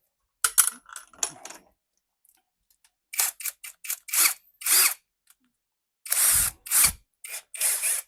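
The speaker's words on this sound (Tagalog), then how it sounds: "So kuha lang tayo ng barena." A power drill boring a pivot point for a DIY router guide setup, heard as several short, loud whirring bursts separated by pauses, with a few small clicks and handling taps at the start.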